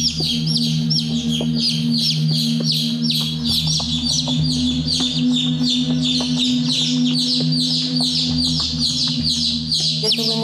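A young chick in a laboratory peeps rapidly and continuously in high, rhythmic chirps, close and loud, over a steady low hum with no talking.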